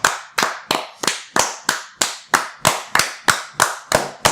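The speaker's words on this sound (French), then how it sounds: "Applaudissements pour Apple." Steady, evenly spaced claps, about three per second and a dozen in all, ring out close and sharp in a unison rhythm, with no voices over them.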